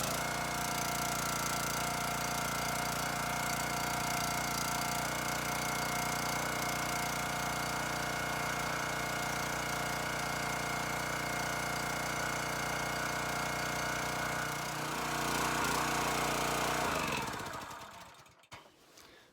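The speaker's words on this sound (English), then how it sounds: "So now why don't we run it for a few seconds, get that new oil circulating" A Forest King log splitter's small engine runs loud and steady after an oil change, a continuous rough idle with a knocking rumble for about seventeen seconds before it is shut off and winds down.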